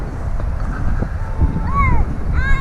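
Wind blows outdoors while a small model plane flies, rumbling and buffeting against the microphone at close range, with a thin rising and falling motor whine passing in the distance.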